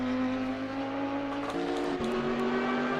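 High-pitched Audi GT4 race car engine in a racing video game at Spa, holding a steady loud drone with a brief shift in pitch partway through, no talking.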